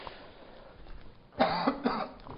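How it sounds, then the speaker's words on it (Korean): A man suddenly coughs during a chemistry lecture, two or three harsh, close bursts after a stretch of quiet room tone, loud and near the microphone. "갑자기 기침이."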